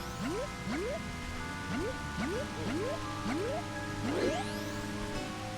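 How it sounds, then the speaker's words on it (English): Frog croaks from The Legend of Zelda: Majora's Mask ring out as a steady series of rising, bubbly calls, about seven evenly spaced, over a constant watery ambient backdrop with no voices. "Yeah, you can hear that frog."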